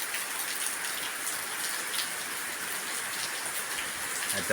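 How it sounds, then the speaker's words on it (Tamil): Heavy rain pours down in Jaffna as a dense, unbroken hiss of drops striking surfaces, steady and fairly close with no voices over it. "நினைக்க முடியாத மழை பெய்யுது."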